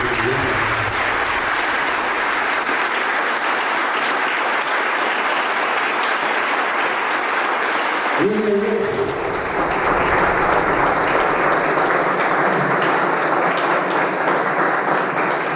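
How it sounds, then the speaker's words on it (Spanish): A congregation at a church service breaks into loud, sustained applause, a dense wash of clapping that carries on evenly throughout, with a brief shift in the middle as a voice cuts in. "Denle un fuerte aplauso"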